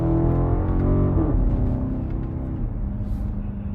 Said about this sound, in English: the upshifts, man, it is just so raucous and insane